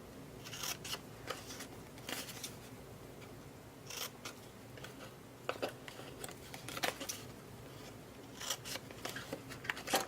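Scissors snip a paper tag for a Christmas treat in a series of short, crisp cuts scattered across the span, close and fairly quiet with no talking.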